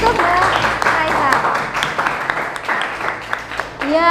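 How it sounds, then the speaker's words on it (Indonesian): Audience clapping for a student during a civics teaching performance assessment, dense steady applause from a group heard under a presenter's talking throughout. "kasih tepuk tangan dulu untuk Mbak Raisa"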